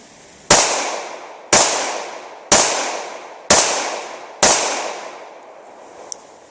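A Ruger LCP II pistol fires Federal RTP rounds: five sharp, loud shots at roughly one-second intervals, each with a short decaying echo, followed by a faint click.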